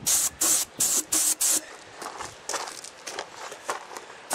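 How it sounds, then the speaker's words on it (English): Airbrush spraying a mix of lacquer thinner and dark brown and black dye onto a mandolin top, outdoors, heard as a series of short close hissing bursts followed by softer, more broken spray puffs. "airbrush techniques to darken the outer edges. I've got a mixture of lacquer thinner, and dark brown dye"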